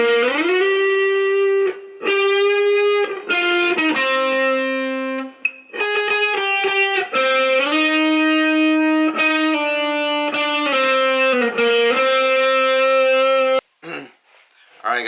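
Distorted electric guitar plays the intro lick of a song, a steady run of sustained, singing notes with short breaks between phrases, loud and alone, ending in a brief pause and a last strum.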